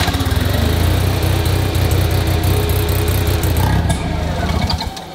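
A single rotor engine with dual ITBs starts and revs, a loud buzzy rotary idle with rapid pulsing and quick throttle blips, close up, settling near the end.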